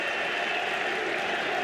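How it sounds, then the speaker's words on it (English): Baseball fans applaud at a stadium during a World Baseball Classic game between Italy and Canada, a steady wash of crowd clapping and noise heard from a distance, continuous and even throughout. "And they're starting to clap."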